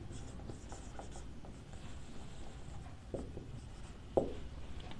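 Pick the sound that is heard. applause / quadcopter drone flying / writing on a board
writing on a board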